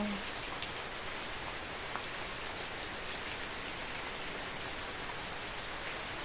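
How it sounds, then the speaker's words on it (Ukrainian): Steady, dense rain patters continuously on a surface close by, an even hiss of drops with no voices. "який гарний дощ іде."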